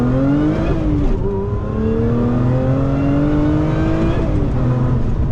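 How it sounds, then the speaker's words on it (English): A manual, supercharged Lotus Emira launches hard from first gear, its engine rising loudly in pitch as it accelerates, with a brief dip at a gear change before climbing again, heard from inside the cabin. "Launch control in the Lotus Emira."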